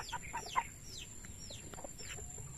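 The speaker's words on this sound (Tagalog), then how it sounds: "May alaga silang pato, ayan." Ducks kept in a rural backyard give short, faint, scattered clucking and quacking calls at a distance, with quiet farmyard background noise.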